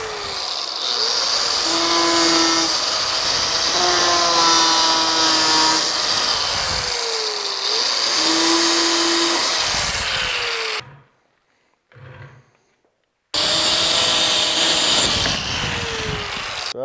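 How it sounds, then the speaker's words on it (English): Abrasive cutoff wheel slicing through the steel front bumper of a third-generation Toyota Tacoma, a loud continuous whining grind with shifting pitch, pausing briefly near the end before the cut resumes. "take a cutoff wheel and follow your line across"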